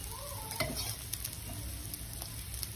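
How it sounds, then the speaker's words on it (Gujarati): Aloo tikki shallow-frying in a little oil on a tava, a soft, steady sizzle with light crackles and a few spatula taps, close and without talk. "આપણે ઓછા તેલમાં બનાવવાની છે, એટલા માટે હું ઉપરથી તેલ એડ કરું છું અને તવા ઉપર શેકું છું"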